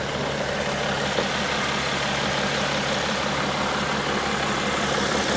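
A 2012 BMW X5 diesel engine idles steadily and close by, a constant low rumble with an even texture and no speech over it.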